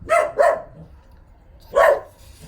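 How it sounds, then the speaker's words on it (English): A dog barks three times, two quick barks and then a third after a pause, close and loud. "Sorry, that's my dog."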